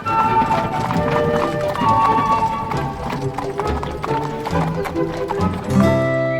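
Five harnessed horses with a horseman at a Hungarian stud farm, hooves clip-clopping in quick rhythm alongside a carriage, heard under steady background music with a brief neigh.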